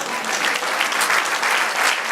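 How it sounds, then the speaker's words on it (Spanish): Dense applause from a church congregation, many hands clapping at once in a loud, even roar that holds steady from start to finish without pauses. "Denle un aplauso al Señor."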